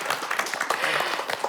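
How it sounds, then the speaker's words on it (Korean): A short burst of brisk clapping from a small group in a mentoring session, with individual claps audible in a quick, uneven patter close by. "박수."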